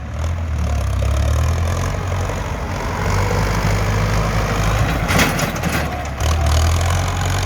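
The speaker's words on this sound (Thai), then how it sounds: "สียงเครื่องรถไถฟอร์ดเข้ามานี่ก็ เดินเรียบครับผม ไม่มีสะดุด" A Ford farm tractor engine runs smoothly without stumbling, a loud, steady low diesel rumble close by with slight dips in tone, pushing soil to build up paddy field dikes.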